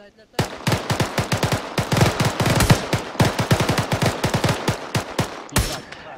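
Rapid bursts of automatic gunfire in the ArmA military simulation game, dense loud cracks in quick strings that carry on almost without pause over about six seconds.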